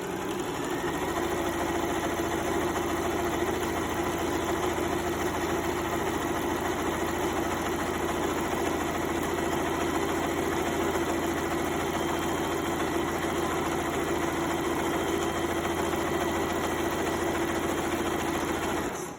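A sewing machine runs zigzag stitching along a skirt seam, a steady close mechanical whir with an even, unbroken rhythm for about nineteen seconds and no voices.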